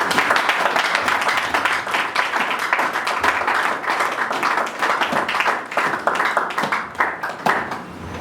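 Congregation at a French-language church service clapping and applauding in praise of Jesus, a dense, steady wash of many hands sustained throughout at close range.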